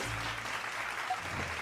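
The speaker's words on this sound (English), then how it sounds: "Thank you for the clap." Brief, quiet applause from a small group, a soft patter of clapping lasting under two seconds.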